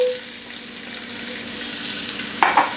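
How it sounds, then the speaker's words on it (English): Onions dropped into a hot pan of rendered lamb fat for braised lamb shank, a continuous loud hissing sizzle close by, with a brief clatter of stirring near the end and no speech. "Lamb is out, I'm gonna add my onions."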